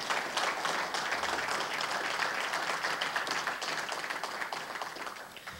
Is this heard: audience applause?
yes